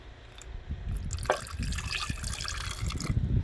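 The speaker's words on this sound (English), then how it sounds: "I'm literally just going to pour enough just to cover it." Liquid is poured over gold dust during refining, a soft trickling and bubbling pour near and fairly quiet, continuous for a few seconds with no talk.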